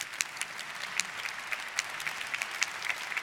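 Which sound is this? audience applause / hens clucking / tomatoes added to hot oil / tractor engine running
audience applause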